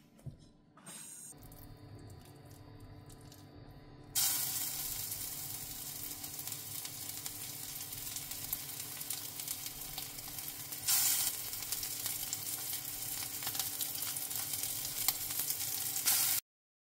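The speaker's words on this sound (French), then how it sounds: "Maintenant, on va faire cuire à la poêle." Homemade meatballs fry in a pan, a continuous loud sizzle that jumps up after a quiet start and holds steady with faint scraping throughout.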